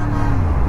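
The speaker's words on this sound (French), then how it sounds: "Ça klaxonne pas mal." Short sustained horn honk from a motorcycle, loud and close, over road traffic noise.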